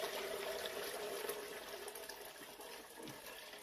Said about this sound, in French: on va procéder à la mise en eau du bac